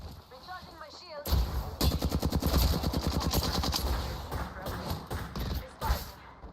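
Rapid automatic gunfire from the Apex Legends battle royale game in a ranked Season 16 match, loud bursts of repeated shots following a short lead-in, with game sound effects layered throughout.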